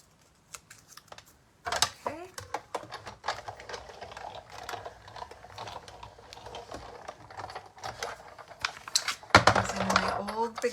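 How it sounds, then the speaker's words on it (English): A Big Shot die cutting machine feeds a leaf die through its rollers, giving a run of dense mechanical clicks and clatter at close range, heard alone with no talk over it. "Big Shot. This is my upstairs die cutting machine."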